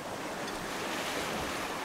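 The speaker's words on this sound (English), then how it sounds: "The wind is still around 22 knots." Steady rush of wind and breaking ocean waves around a sailboat at sea in roughly 22-knot wind, a constant loud wash of noise with no voices.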